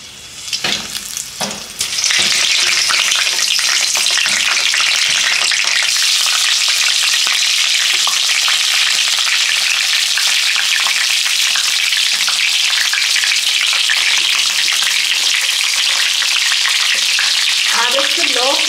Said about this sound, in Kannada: ಆಯಿಲ್ ಬಿಸಿಯಾಗಿದೆ. ಇವಾಗ ಸ್ಟಫಿಂಗ್ ಮಾಡಿ ಇಟ್ಟಿರೋ ಬದನೆಕಾಯಿ ಹಾಕೋತಾ ಇದ್ದೀನಿ ಇದರಲ್ಲೇ